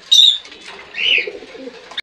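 Pigeons coo softly and close by, two short throaty calls with brief rustling between them.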